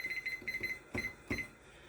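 A kitchen timer set while candied jalapeños cook gives quick bursts of high, thin beeps in a repeating pattern. It is faint against low background noise in the kitchen.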